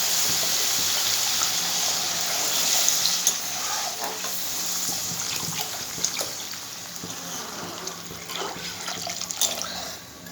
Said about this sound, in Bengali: মশলা দিয়ে তেল ছেড়ে দিয়েছে, এর মধ্যে আমি দিয়ে দেবো জল।